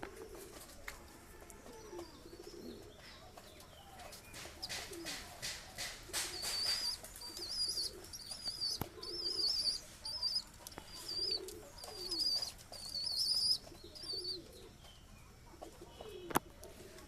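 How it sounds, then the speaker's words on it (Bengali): High-flying pigeons just fed in a breeding loft coo repeatedly in soft rising and falling calls, with short bursts of wing flapping and faint chirps, close and clear with no talk. "এক্ষুনি খাবার দেওয়া হলো পায়রাকে খাবার জল"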